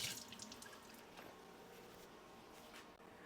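Tap water runs steadily into a sink for hand washing, a continuous close splashing hiss that stays even throughout with no talking.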